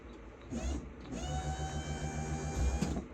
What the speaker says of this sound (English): let's turn the key on to the right position. And I haven't even tested to see if this motor works yet